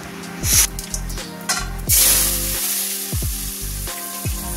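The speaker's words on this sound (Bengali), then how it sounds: "ডালটা ফোড়ন দিয়ে নিলাম।" Dal tempering sizzling in hot oil in a home kitchen, a loud close hiss with repeated stirring strokes and scrapes marking a rough rhythm, no voices.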